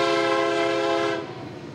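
Norfolk Southern freight headed eastbound over Beaumont Hill in Southern California with multiple locomotives, a sustained chord-like horn blast sounding loud and steady before dropping off, with rumbling rail noise beneath and no talking.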